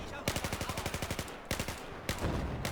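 Rapid automatic rifle fire in Battlefield 4 hardcore mode, a loud sustained burst of evenly spaced shots that breaks off, then resumes in shorter bursts.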